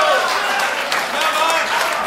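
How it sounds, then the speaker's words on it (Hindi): Audience applause at a Hindi poetry gathering, a close and steady wash of clapping for about two seconds with crowd voices woven through. "और एक टिप्पणी पर आपकी तालियां उठें"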